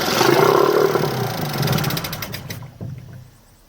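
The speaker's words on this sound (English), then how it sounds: "as you can see, it's firing, but it's refusing point blank to start" A Seagull Forty Plus outboard engine fires in a loud, rough burst of combustion that sputters and dies out within a few seconds instead of catching and running.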